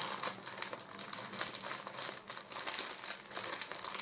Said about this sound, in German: Das ist so schönes Papier, das will man ja kaum kaputt machen.